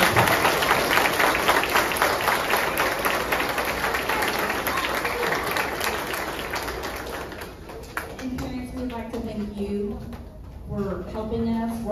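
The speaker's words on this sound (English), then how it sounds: "So if we can all give them a round of applause for you guys." Audience applause for first grade students at an end-of-year school awards ceremony, steady clapping throughout with voices and chatter mixed in, thinning toward the end as someone begins speaking.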